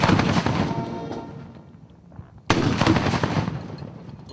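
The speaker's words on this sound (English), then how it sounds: "This was immediately followed by the uncasing of the general officer's flag, and then an 11-gun salute." Artillery fire from an eleven-gun salute at a general officer promotion ceremony: two loud, booming blasts a couple of seconds apart, each trailing off into a long, rolling outdoor echo.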